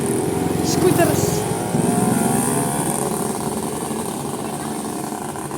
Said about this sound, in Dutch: Ja, dit is het dagelijks leven. Scooters. Scooters.